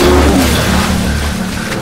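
Jet skis race across the water off a Miami beach, passing under a bridge; a loud, continuous engine drone holds steady and then eases slightly.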